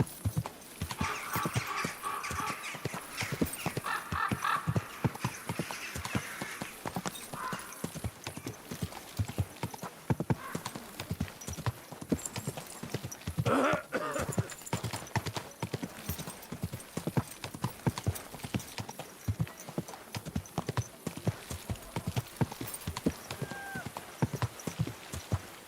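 Horse hooves clip-clop steadily in the medieval video game Kingdom Come: Deliverance II, a continuous close rhythm of hoofbeats with an occasional whinny and someone speaking calmly over it.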